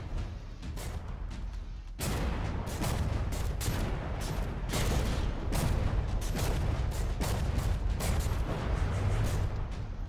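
Warship turrets fire artillery in the naval combat game From the Depths, a rapid barrage of loud booms and blasts repeating every fraction of a second over a continuous rumbling roar, with no voices.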